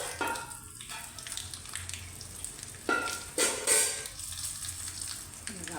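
Curry leaves and asafoetida in a hot-oil tempering sizzle in a pan, a close, steady frying hiss with brief louder bursts and a few stirring scrapes.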